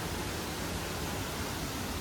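A waterfall in South Sikkim near Pelling roars as a dense, unbroken rush of water, loud and constant, with no voices.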